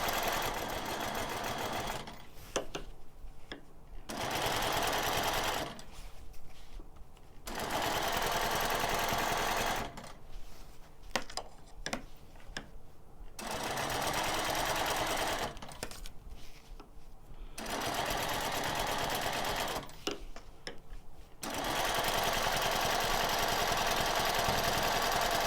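Sewing machine stitching a square meander quilting pattern along a quilt border, running in steady buzzing bursts a few seconds long with short pauses between them, close up and fairly quiet.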